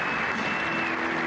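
A union firefighters' conference crowd applauds, a dense, steady wash of clapping with no breaks.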